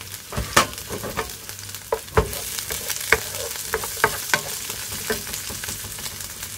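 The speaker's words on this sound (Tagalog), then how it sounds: "gisahin na natin ngayon ang garlic. Sabay na rin natin sa pag-isa ang ating paprika" Garlic and paprika sauté in butter with a soft, even sizzle, punctuated by sharp clacks and scrapes of a spoon stirring the pan at irregular moments, heard close with no speech.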